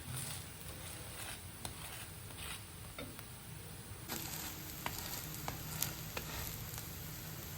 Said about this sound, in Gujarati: થોડું થોડું પ્રેસ કરશું, જેથી બધી બાજુથી સરસ ચડી જાય.